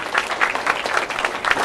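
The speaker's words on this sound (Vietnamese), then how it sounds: "Xin một tràng pháo tay thật lớn" An audience applauds to welcome the priest Nguyễn Văn Khải at a youth dialogue gathering, with loud, steady clapping in a few pulsing swells over a short stretch.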